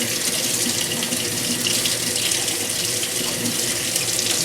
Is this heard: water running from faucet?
yes